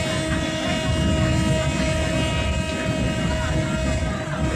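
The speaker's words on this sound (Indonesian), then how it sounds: "Tancap gas ini kereta api kita, langsung jos cepat ngebut." Loud, continuous rumble and rattle of a fast-moving train heard from inside, passing fog-covered hills, with a steady tonal whine riding over the clattering noise.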